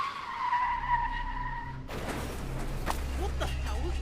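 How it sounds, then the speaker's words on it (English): A car accident in the video game Rewind or Die: tires skid across a broadband burst that starts midway and continues as scraping crash noise, following a steady tonal hum. "What the hell was that? Sounds like a car accident."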